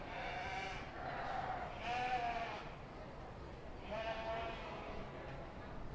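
Shropshire yearling ewes at a county fair sheep show give several wavering bleats over a noisy, echoing hall, moderately distant and mixed with crowd murmur.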